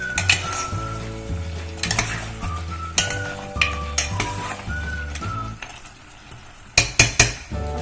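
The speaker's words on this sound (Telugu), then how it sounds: "ఇప్పుడు కొన్ని పొటాటోస్ వేసుకోవాలండి. వేసుకొని బాగా కలుపుకొని" Potatoes stirred into tomato mutton gravy in a pan: a metal spoon scrapes and clinks against the pan in repeated strokes over a soft simmer, with a few sharper clanks near the end.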